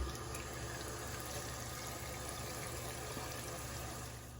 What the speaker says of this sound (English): I'll pour it into a pan with some cold water.